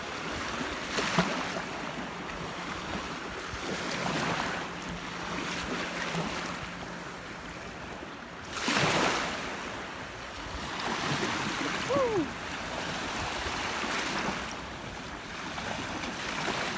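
Ocean surf at a beach by Lighthouse, with waves rolling in and breaking in slow surges, wind rushing across the microphone throughout and no voices.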